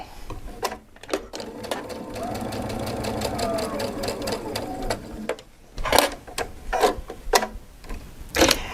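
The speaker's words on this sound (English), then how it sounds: "I'm going to sew a little bit on my leader cloth, just using the base attachment foot" Domestic sewing machine stitching on leader cloth with the base attachment foot, a steady fast mechanical whirr running for several seconds between short starts and stops.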